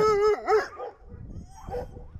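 Podenco dogs at a greyhound shelter give a loud, close howling bark with a rising and falling whine, followed by softer yips and scuffling.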